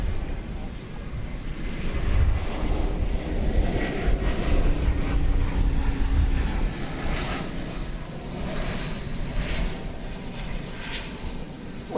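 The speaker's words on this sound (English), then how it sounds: "Ah, a plane is coming in." An American Airlines Airbus A321 comes in to land at DFW Airport at night, a loud steady jet engine roar and rumble that swells and then slowly fades, with people talking faintly underneath.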